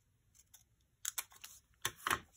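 Scissors cutting an inside pocket off a folio, a few quiet separate snips and rustles, with brief sharper cuts near the end.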